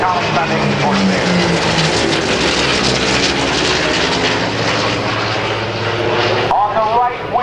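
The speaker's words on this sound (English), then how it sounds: "Here comes Dan McCue with the Collings Foundation Corsair" F4U Corsair propeller fighter flying past at a naval air station airshow, a loud continuous engine drone with a rising and falling pitch as it passes, an announcer talking over it.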